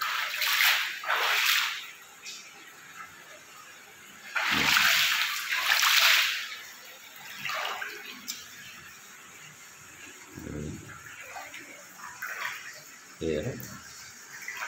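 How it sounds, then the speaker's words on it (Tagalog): High-tide seawater floods into a rented house, sloshing and splashing in uneven bursts with quieter stretches of moving water between them. People talk over it. "pasok yung high tide dito sa loob ng inuupahan kong bahay"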